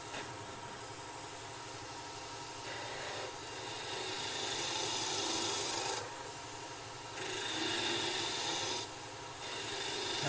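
Skew chisel shaving wood on a spinning lathe while turning a goblet, a continuous close rasping hiss that swells and eases in several passes over the steady hum of the motor.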